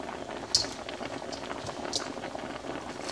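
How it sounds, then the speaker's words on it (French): A pot of Haitian eggplant stew simmers on low heat, giving a soft continuous bubbling and popping, close and fairly quiet, with no voices. "Ça va cuire tout doucement, mijoter."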